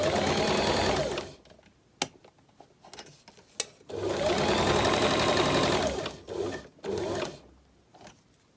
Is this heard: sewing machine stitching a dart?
yes